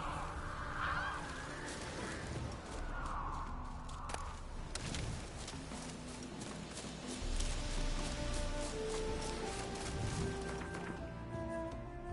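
Ravens in The Witcher 3 video game, near Novigrad, give several harsh, honking croaks spread over a dense outdoor ambience, with faint footsteps moving underneath.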